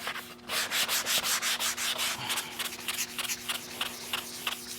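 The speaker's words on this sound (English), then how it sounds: "you could just kind of simulate a finer grain of sandpaper by just going over it lightly" Fine sandpaper passes lightly over a car body panel on a replica Ferrari Testarossa. Close, soft rhythmic rubbing strokes come in a quick back-and-forth series, then ease into lighter, more scattered passes.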